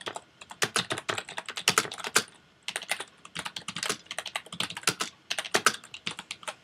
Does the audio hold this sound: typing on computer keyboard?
yes